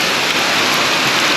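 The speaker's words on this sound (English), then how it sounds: "Ow, that's painful hail!" Heavy hail pours down with an overflowing gutter, a loud, dense, continuous roar of falling ice and rushing water, close by with no talk.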